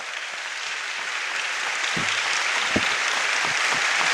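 A church congregation applauds during Sunday Mass, a broad wash of clapping that builds slightly in density, with a few sharper claps standing out.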